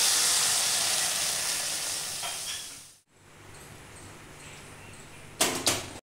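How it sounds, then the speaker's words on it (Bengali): A splash of water hits a hot wok on a gas stove and bursts into loud, steady sizzling hiss that fades for a few seconds, followed by quieter crackle and a couple of sharp clatters near the end. "গ্যাসে কড়াই বসিয়েছি, এখন কড়াইয়ে আমি অল্প একটু জল দিয়ে দিচ্ছি।"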